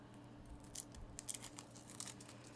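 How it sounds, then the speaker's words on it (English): Scissors cutting small pieces of image transfer backed with wax paper, giving a few brief crisp snips and crinkles, close and quiet, with no talking. "So I'm gonna cut my pieces down here."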